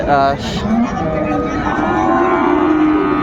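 Sahiwal bulls and other cattle low at the traditional Ambari cattle market in Dinajpur, with a loud moo opening the stretch, set against a busy market murmur and nearby voices.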